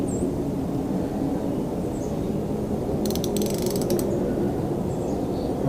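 A socket ratchet clicks in a short burst while backing off a very tight spark plug on a 2013 Mercury 250 Pro XS outboard, the rapid pawl clicks standing out over a steady background rumble.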